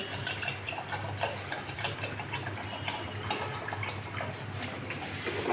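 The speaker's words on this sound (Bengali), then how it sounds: "এবার জল দিয়ে দেবো আম ডাল তো একটু পাতলা হলে ভালো লাগবে খেতে" Water is poured into a pot of mango dal, a lentil soup with mango, making a faint, continuous splashing trickle with scattered light ticks and clinks.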